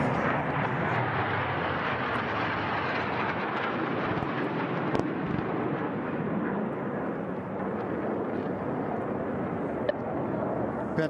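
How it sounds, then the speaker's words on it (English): Simulated surface-to-air missile launch pyrotechnics at an air show: a sustained, loud broadband roar and rumble lasting throughout, with a few sharp cracks near the middle and no speech. "Panther SAM launch."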